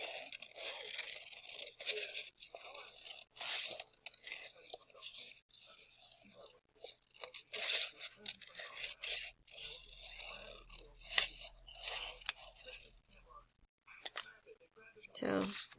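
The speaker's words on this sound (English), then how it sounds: "cut out my flower shape." Paper being cut into a flower shape with scissors for a gnome craft, giving a string of close, quiet crunchy snips and scrapes in irregular bursts, with no talking.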